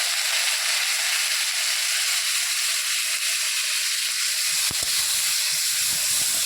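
Prawn heads coated in salt and turmeric frying in oil with whole garlic cloves, giving a steady broad sizzle throughout with a few soft stirring knocks near the end.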